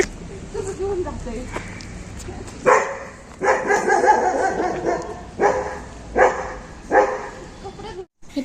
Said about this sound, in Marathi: ही रस्त्याने फिरणारी कुत्रे एवढी भुकत असतात लोकांवरती गाड्यांवरती